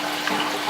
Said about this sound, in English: See the water's coming out of the front.